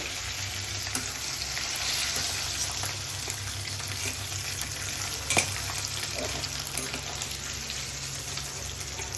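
Dry fish curry with potato and tomato frying in a pan, a continuous dense sizzle close by with faint stirring and a single sharp clink midway, steady and unbroken.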